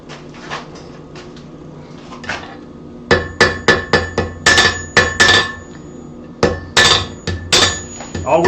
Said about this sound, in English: All we're doing with the hammer is just flattening, putting it all in the same plane